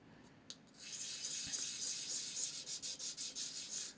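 Sandpaper rubbed back and forth over a 3D-printed part, a steady close raspy scrubbing that turns into short rhythmic strokes toward the end, alone without talk.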